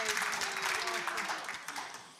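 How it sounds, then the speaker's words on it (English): Applause from a church congregation during a Sunday morning service honours a golden-anniversary couple, a steady wash of clapping heard faintly at a distance, with a faint tone running through it. "can we have a round of applause for Retford's golden couple?"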